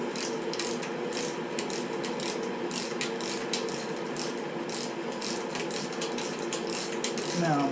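A ratchet tightens fork parts on a Harley-Davidson Iron 1200 Sportster during a progressive fork spring install, giving a continuous close clicking and grinding through the whole stretch.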